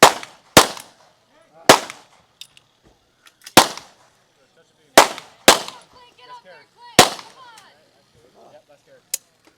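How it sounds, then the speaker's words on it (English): Pistol shots at a team stage of an elite shooting competition, the Magpul Showdown 2024, crack loud and close in an uneven rhythm, about seven shots with short quiet gaps and faint clatter between them. "Last set of pistols here."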